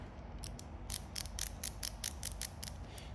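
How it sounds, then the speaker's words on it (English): Ratchet screwdriver from a budget tool set clicking through its mechanism, a quick run of sharp, evenly spaced ticks close up against a quiet background, with no talking. "Ratchet mechanism is okay."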